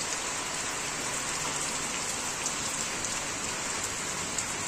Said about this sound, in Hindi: कितनी जोरों से बारिश हो रही है।